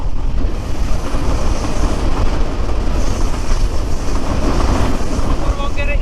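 The Chilahati Express rolls along at speed in Bangladesh, a steady loud rumble of wheels and carriage noise with wind buffeting the microphone and faint rhythmic clatter throughout.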